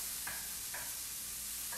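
Onions sizzling in a pan at the start of cooking meatloaf, a soft, steady hiss of frying with a few brief scraping stirs, quiet and without talking.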